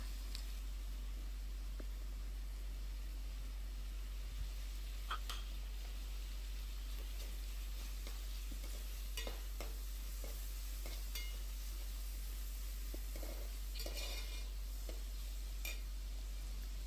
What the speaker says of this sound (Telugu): కట్ చేసి పెట్టుకున్న ఉల్లిపాయలు, పచ్చిమిరకాయలు కూడా వేసుకొని బాగా వేయించుకుందాం దోరగాని